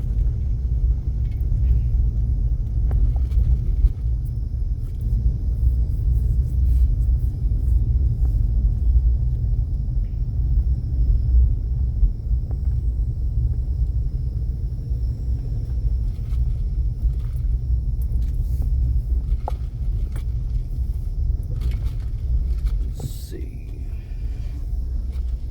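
A car driving slowly down a dirt road outside Panama City, Florida, a steady low engine and tire rumble heard from inside the vehicle, continuous throughout with faint, soft talking over it.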